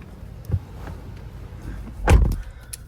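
Someone climbing into a Jeep Trackhawk at night, with a dull thump early on, then a louder door-and-seat clunk and shuffle, and small clicks at the end; no talking.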